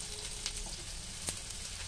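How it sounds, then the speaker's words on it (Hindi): Urad dal and cumin frying in hot oil for kachori, a steady faint sizzle with a couple of soft stirring clicks. "इसको अब दाल फ्राई करेंगे"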